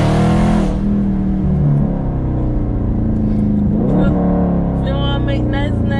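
A Dodge Charger engine rumbles and revs loudly and steadily, with a brief rising rev partway through, close by.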